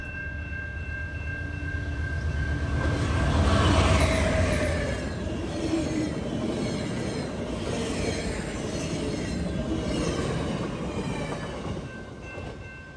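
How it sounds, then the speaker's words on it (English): A Via Corridor passenger train heading to Montreal's Gare Centrale rolls past, building to a loud rumble with rhythmic wheel clatter and a steady crossing bell tone, then receding gradually. "a Via Corridor service cruises by en route to Montreal's Gare Centrale"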